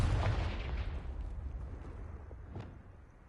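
A blasting-spell explosion in the Hogwarts Legacy video game, a heavy low boom at the start fading into a rumbling tail, with a smaller crack near the end.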